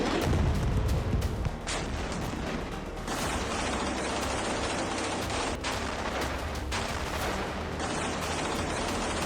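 Heavy bombardment with phosphorus bombs in southern Gaza, Khan Younis, gives a dense, loud roar of continuous blasts and crackling fire that rises and falls in waves, with no voices.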